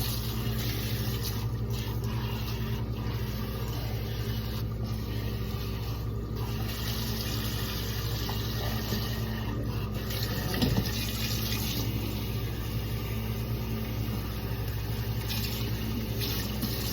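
Warm running water from a tap or shower wetting coarse, curly hair before shampooing, a steady soft hiss and splash throughout without any talk.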